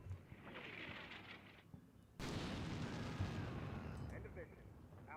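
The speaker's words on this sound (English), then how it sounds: "artillery. Blow these guys up." Artillery fire in the Combat Mission Black Sea war game, a sudden heavy boom cutting in midway and followed by a dense rumbling roar of shelling, with a voice talking faintly beforehand.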